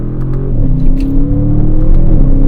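A 2022 Audi RS7 drops a gear, its engine note climbing and shifting in pitch as it revs; loud, close, deep rumbling cabin sound with no talk.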